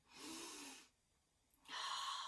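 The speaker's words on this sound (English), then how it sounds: "So let's all take a big sniff." A person takes big sniffs: two long, breathy inhales close to the microphone, separated by a short quiet pause, with no talking.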